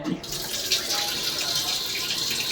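Water runs steadily from a washbasin tap in a train toilet on the Sri Jagannath Express, a continuous close hiss with no pauses.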